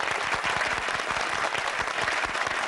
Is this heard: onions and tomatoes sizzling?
no